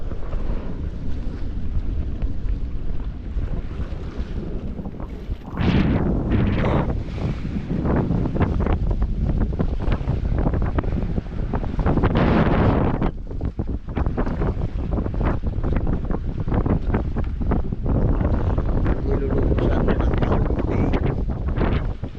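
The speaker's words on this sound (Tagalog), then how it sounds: "Malalalim na rin pala ang alon." Rough sea in Lamon Bay heard from aboard a small boat: constant loud wind buffeting the microphone over heavy waves slapping and surging, with bursts of louder spray and hull impacts throughout, no voices.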